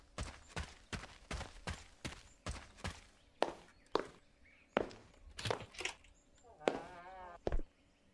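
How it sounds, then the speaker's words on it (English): Loud, echoing footsteps in an indie horror video game thud in a steady walking rhythm of about a dozen heavy steps, with a brief voice murmuring near the end. "Our footsteps sound crazy."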